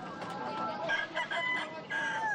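Fighting roosters crow and cluck nearby on a city sidewalk in overlapping calls against a busy outdoor background.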